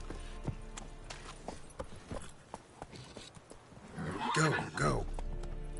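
Horse hooves clip-clop steadily in The Witcher 3, mixed with game voices, then a louder burst near the end that may be a whinny.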